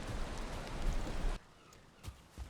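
Rain falls steadily in Valheim as a broad, even hiss for over a second, then drops to a quieter patter with a few soft scattered thumps.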